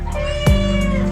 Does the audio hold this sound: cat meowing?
yes